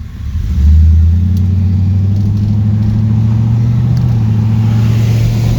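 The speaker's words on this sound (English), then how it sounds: "the engine runs good, the transmission shifts good." A project car's engine idles close by, then revs up to a steady, loud, low drone that holds with little change for several seconds.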